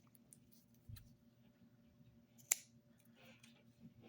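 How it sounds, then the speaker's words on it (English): Scissors make a single quick, crisp snip through bracelet thread, close and fairly quiet, with faint handling noise around it. "Actually, might as well just cut this now."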